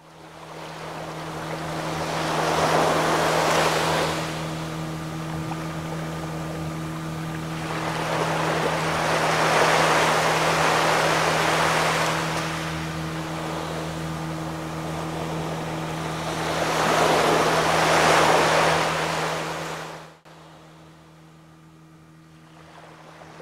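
Sea swells slap and rush against a small boat out on open water near a port, three surging washes rising and falling over a steady engine hum, loud and close, with no voices.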